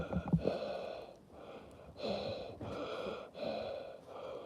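Voice imitation of Michael Myers mouth breathing inside his mask: a few heavy, hollow, rasping breaths in a slow rhythm, close and fairly loud, with no talking.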